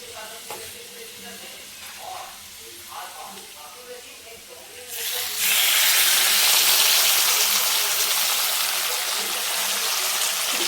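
Raw chicken hits a hot pan midway and sets off a loud, steady sizzle that keeps going to the end, after quieter stirring and faint kitchen sounds.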